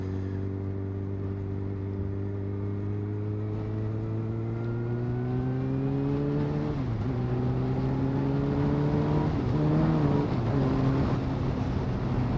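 A Yamaha R1 sports motorcycle accelerating hard at full throttle, its engine note climbing steadily through the gears with brief dips at shifts, loud and close with wind rush.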